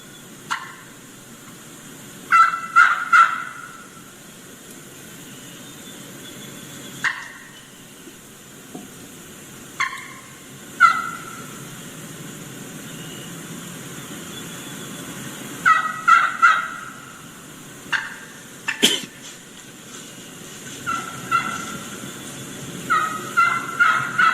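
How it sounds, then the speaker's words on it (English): Several wild turkey hens yelping as recorded calls, short bursts of clucky yelps repeated in clusters with pauses between, moderately close over a quiet outdoor background. "I want to let this play through so you can hear a couple of different hens doing that same type of yelping"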